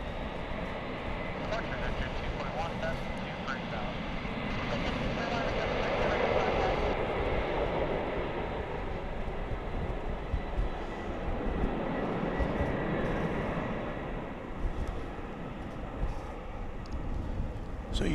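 A UPS cargo plane takes off from DFW International Airport, its jet engines building to a broad, sustained roar that peaks midway and slowly fades, with someone talking over it.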